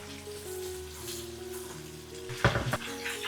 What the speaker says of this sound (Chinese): 把大蝦煎香，煎出蝦油。